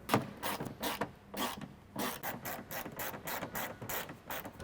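A hand ratchet drives 10mm fender liner bolts on a 2016+ Toyota Tacoma during a front bumper install, making rapid close clicking bursts in a quick uneven rhythm with no talking.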